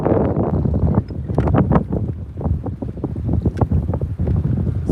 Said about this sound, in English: the wind is kind of howling through those trees